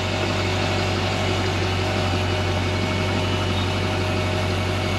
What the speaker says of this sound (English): Okay, the engine's on.